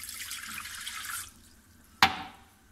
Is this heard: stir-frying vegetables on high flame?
no